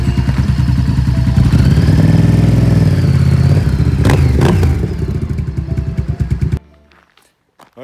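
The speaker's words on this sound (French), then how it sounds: "la moto tourne, la moto roule" A motorcycle engine runs loudly and steadily up close with a throbbing mechanical rhythm and some clatter, then cuts off abruptly near the end, leaving near silence.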